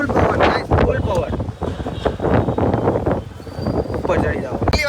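A windstorm's strong gusts roar and buffet the microphone in a dense, continuous rush, with people talking loudly over the blustery noise.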